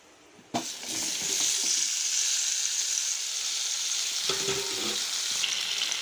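Green chillies and chopped tomatoes drop into hot tempering oil and set off a loud, steady sizzle that runs almost the whole time, broken by a couple of stirring scrapes.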